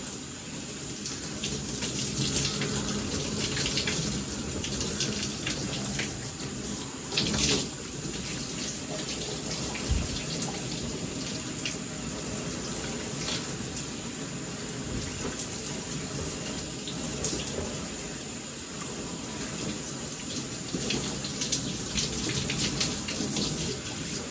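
Shower water runs steadily and loudly while hair is rinsed, a continuous splashing stream that lasts throughout with no talk.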